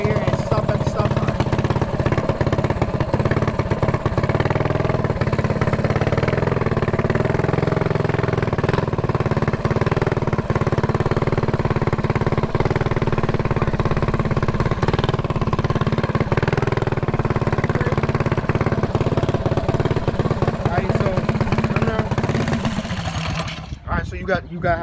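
A mini bike engine runs steadily throughout, a continuous mid-pitched motor drone close by that fades out abruptly at the end, with people talking over it.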